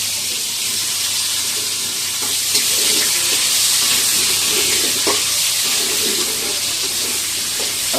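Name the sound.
potatoes frying in hot oil, sizzling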